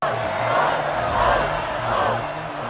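An alien crowd in a gladiator arena on the planet Sakaar roars for the Hulk in a film scene, a dense, sustained mass of cheering and battle cries that swells and falls steadily throughout.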